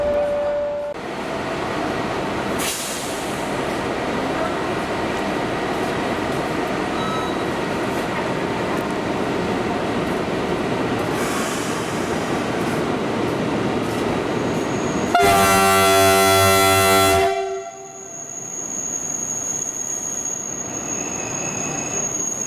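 The Argo Parahyangan passenger train rumbles past close by, its wheels letting out a loud, sustained metallic squeal that rises sharply near the end before the noise drops away.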